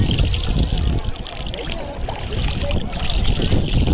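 Water is poured over a person at the Pranahita river during the Pushkaralu festival at Arjunagutta, making a continuous splashing, trickling wash under people's voices and outdoor bustle.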